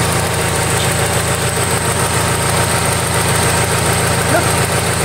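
A Honda Civic engine idles steadily, recorded up close at the engine, a constant low rumbling hum with faint mechanical ticking and vibration throughout.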